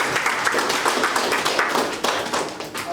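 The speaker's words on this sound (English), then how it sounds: "I think we should give them a round of applause." An audience in a local government gathering breaks into dense, steady applause that carries on for a few seconds.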